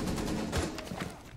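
Gunfire in the Rainbow Six video game, a dense burst of rapid shots and impacts running through the whole short moment, loud and continuous with a final sharp crack.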